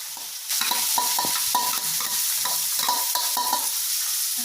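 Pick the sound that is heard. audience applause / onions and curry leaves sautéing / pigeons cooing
onions and curry leaves sautéing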